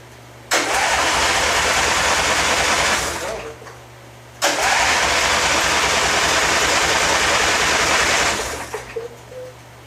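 A lawn mower engine cranked with the choke set: two long bursts of broadband engine roar, each lasting about three to four seconds before cutting off, close and loud, with a steady low hum underneath.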